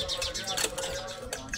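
Sparrow chicks, four or five in a nest inside a garage, keep up a loud, dense stream of high chirps throughout, close and continuous with no other sound competing.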